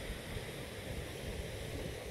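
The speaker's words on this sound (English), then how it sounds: "at a waterfall in Sweden." A waterfall in northern Sweden on Midsummer's Eve roars as a continuous, dense wash of rushing water, steady and fairly close with no pauses.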